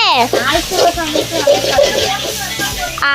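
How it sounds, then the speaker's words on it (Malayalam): Shallot paste stirred in a sizzling pan, a continuous frying hiss with scraping stir strokes, under a voice talking throughout. "ചെറിയുള്ളി പേസ്റ്റ് നന്നായിട്ട് ഇളക്കി കൊടുക്കുക"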